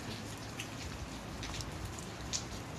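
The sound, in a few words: rain falling on a waxed car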